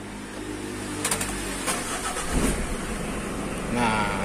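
Mitsubishi L300 pickup engine cranking and catching at once, then idling steadily close by, with someone talking over the running motor.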